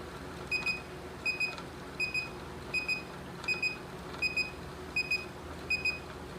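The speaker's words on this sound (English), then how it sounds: "I need to count 20 consecutive beeps, and that means I have finished the test" Repeated double beeps from an SO2 titration device signalling the endpoint in a wine sample, about nine evenly spaced high-pitched chirp pairs over steady low background hum, moderately loud and close.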